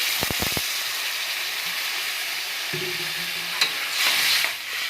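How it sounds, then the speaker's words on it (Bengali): Mango pieces fry in a pan with a steady sizzle and hiss, broken by a few sharp scraping knocks from stirring near the start and a brief clatter later, close and without talk. "এবার এটাকে একটু ভালো করে নাড়াচাড়া করবো ভাজা ভাজা মতন করে"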